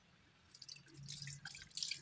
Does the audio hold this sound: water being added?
yes